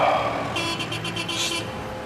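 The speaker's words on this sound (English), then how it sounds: "Traffic's horrendous." Busy Chinese street traffic hums in the background, with a short burst of repeated car horn beeps rising above the steady road noise.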